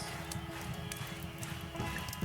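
Horse hooves clip-clop steadily in a video game, a soft, fairly even rhythm of muffled hoofbeats running under a constant background hum.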